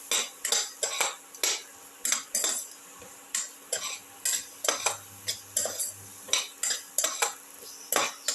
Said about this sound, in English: saute and mix that in.